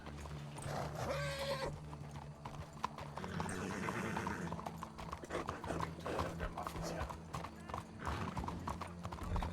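Horse hooves clip-clop steadily while riding in the RedM roleplay game, a close, rhythmic patter running throughout, with a brief whinny early on and people talking over it.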